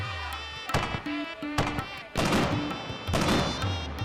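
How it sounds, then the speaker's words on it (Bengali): Cartoon fireworks at a festival competition in a Gopal Bhar animated episode go off as a series of sharp bangs and crackling bursts, loud and close, with tonal sound-effect layers between the blasts. "আতশবাজি প্রতিযোগিতা।"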